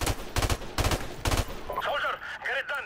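Several quick bursts of gunfire from a competitive 1v1 shooter match, loud and close, spaced by short gaps, followed by fainter in-game sound effects.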